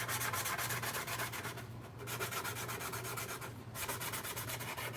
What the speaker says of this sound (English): you can tell with this 320, it's probably not sounding as loud as the other sandpaper was.